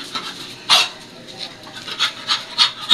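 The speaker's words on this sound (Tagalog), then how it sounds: "Hinihingal niya." A dog pants close by in hot summer weather, in quick, rhythmic breathy huffs, repeating steadily over a quiet background.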